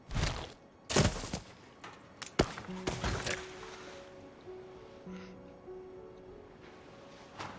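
Cannon towers blowing up in the video game Anno 1800, a burst of sharp blasts and crackling impacts near the start that fade into quieter game ambience with ringing tones.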